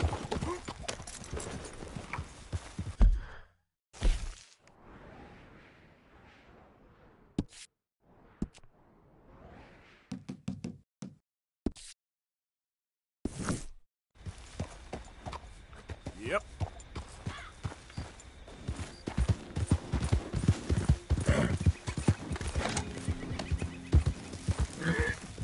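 Horse in the Red Dead Redemption 2 video game galloping, with neighs and clip-clopping hooves amid game sounds, broken by brief silent gaps, with a person talking at times.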